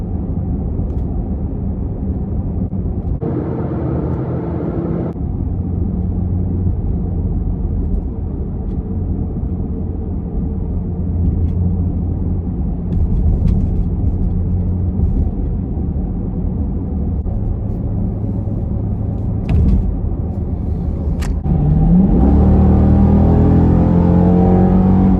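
A heavy Jeep Grand Cherokee SRT with a naturally aspirated 6.4-liter V8 Hemi drives along, its engine a steady low rumble heard from inside the cabin, rising into a loud revving acceleration near the end.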